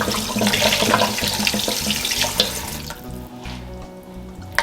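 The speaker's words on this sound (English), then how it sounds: "I'm going to add some fresh water." Tap water runs into a bowl of fish in a kitchen sink, a loud close rushing stream that cuts off near the end, leaving quieter dripping and a faint clink.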